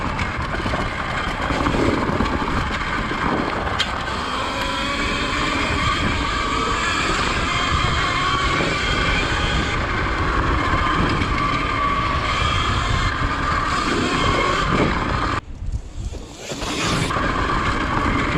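An electric dirt bike fitted with a 48-tooth sprocket runs flat out at top speed, its motor whine blending with heavy, continuous wind rush against the microphone throughout, dipping briefly near the end.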